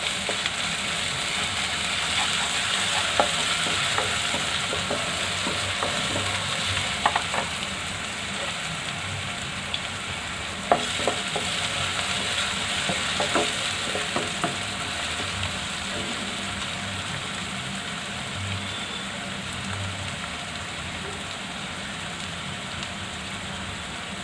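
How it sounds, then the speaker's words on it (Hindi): Ginger garlic paste frying with browned onions in a pan gives a steady, soft hiss and sizzle with occasional faint clinks, continuous and fairly quiet, with no talking. "अब हम इसमें ये अदरक लहसुन का पेस्ट डालकर भूनेंगे।"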